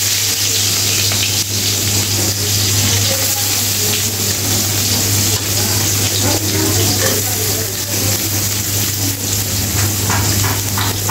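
Chopped onions fry in a pan for a chicken curry, giving a steady loud sizzle with occasional stirring scrapes over a constant low hum.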